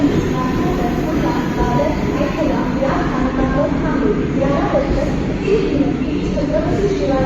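A fast Mumbai local train bound for Chhatrapati Shivaji Maharaj Terminus pulls into a busy station platform, its steady rumble and clatter filling the air beneath constant crowd chatter and platform noise.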